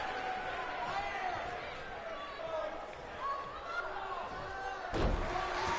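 A wrestler slams an opponent's arm down on the mat at an independent pro wrestling show, a single heavy thud that rises over crowd chatter and ongoing commentary.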